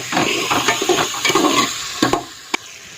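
Spice masala with turmeric fries in oil, a soft sizzle broken by scraping stirs and a few sharp clinks of a spoon against the pan.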